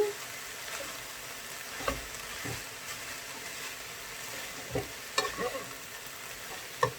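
Egg roll in a bowl ingredients with coleslaw fry quietly in a pan under a soft, constant sizzle, broken by occasional clicks and scrapes of a utensil stirring the mix.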